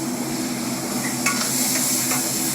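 Balti curry sizzling in its pan at a Birmingham restaurant, a steady close hiss and crackle with light scraping stir sounds and faint clinks over a low kitchen hum.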